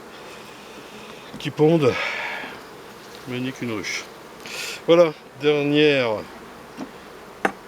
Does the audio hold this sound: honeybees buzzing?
yes